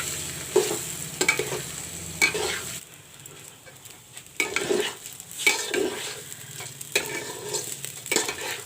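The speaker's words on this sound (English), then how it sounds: "Let the rice fry along with the garam masala which I have put." Washed rice frying and being stirred with garam masala in a pan for fried rice, a steady close sizzle broken by repeated scraping stir strokes and light clinks.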